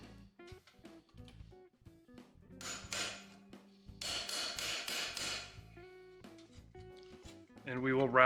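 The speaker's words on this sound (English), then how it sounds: "I do like to use a brass hammer for this so that we do not wreck our tooling." A brass hammer strikes a rivet set to round over a solid rivet head on copper work, giving a few bursts of ringing taps close by between quieter stretches of handling noise.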